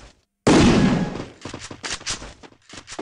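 In-game gunfire from the mobile battle royale Free Fire: a loud burst opens, then a rapid run of shots rattles on close and steady, with no talking.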